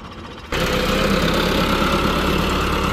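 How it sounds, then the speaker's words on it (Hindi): A tractor engine starts up after a quieter half second and runs on steadily, a loud, close, heavy diesel drone with constant low rumble and no talk. "चलो जी ट्रैक्टर जा रहा है जी"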